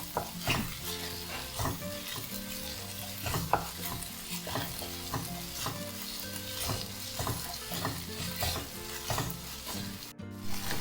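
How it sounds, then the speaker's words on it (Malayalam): Paneer sandwich filling mixed with tomato sauce is stirred in a hot pan, a steady scraping and sizzling that goes on throughout with rhythmic spoon strokes against the metal and no talking. "എന്നിട്ട് നമുക്ക് ഇത് നല്ലപോലെ ഇളക്കി കൊടുക്കാം."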